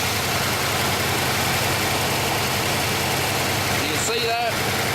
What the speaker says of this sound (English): if you can hear me over this rattly thing. Solid lifters